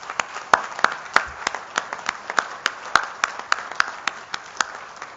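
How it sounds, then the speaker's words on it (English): A few people clap at an annual general meeting for the incoming board, sparse and distinct claps with a loose, uneven rhythm, fairly close and moderately loud in a quiet room. "I would ask for a round of applause for our incoming board."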